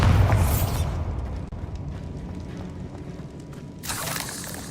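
A Bombarda spell explodes in the Hogwarts Legacy video game, a loud deep boom that fades into a rumbling tail before a second burst of debris noise near the end.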